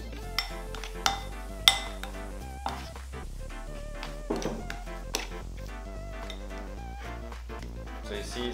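Spoon mixing corn tortilla dough in a bowl, irregular clinks and taps of metal against the dish with soft dough squelches between, close and fairly quiet, some hits sharper than others.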